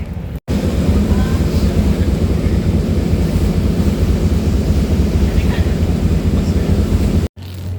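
Steady, heavy wind buffeting the microphone outdoors in Hong Kong, a constant low roar throughout with no clear voices, broken by a brief dropout at each end.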